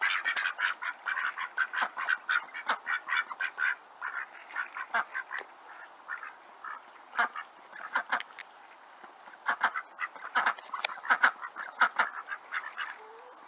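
A flock of domestic ducks and geese quacks and honks in rapid, overlapping bursts, close and lively, with brief pauses between clusters of calls and no talking.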